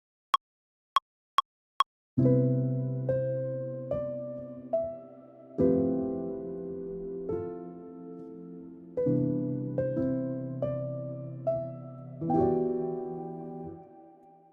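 A chord progression in which every chord carries an added 7th and 9th, opened by four sharp count-in clicks, then a steady series of rich, sustained chords struck one after another, loud and alone with no voices.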